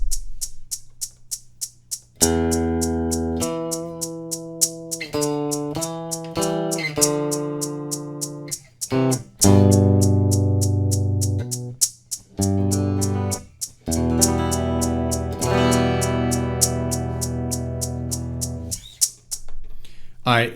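Clean electric guitar notes recorded into an MPC Live through a Hosa Sidekick DI box, played as a loose series of single notes and short phrases, some sustained and some clipped, alone and up close.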